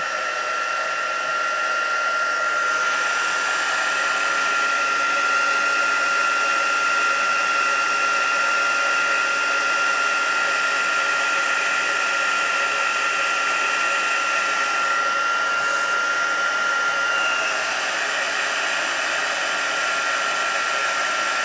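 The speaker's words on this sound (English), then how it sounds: "now I'm going to use my heat tool and get this done" A crafting heat tool for embossing on a Stampin' Up! butterfly banner card blows steadily for about twenty seconds, a loud, close, constant whirring hiss with a high whine, no speech over it.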